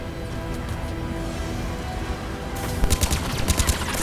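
Bursts of gunfire from Mass Effect 3 combat, a steady background of shooting that grows louder and sharper near the end, with several distinct heavy shots in quick succession over continuous battle noise.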